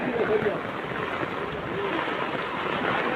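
Rainwater overflowing and rushing in a village during monsoon rain, a steady broadband roar of flowing water that holds constant and fairly loud throughout, with no clear talk.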